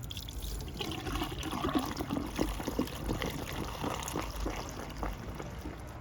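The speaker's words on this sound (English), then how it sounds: "And then I'm going to go ahead and pour this in here." White vinegar pouring steadily into a car's windshield washer fluid tank, a continuous trickling splash with faint background noise and no talking.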